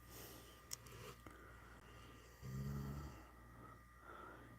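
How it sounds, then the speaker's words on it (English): Dog snoring indoors, one low rumbling snore in the middle, fairly close but quiet, with faint background hum and a couple of small clicks. "over there snoring away"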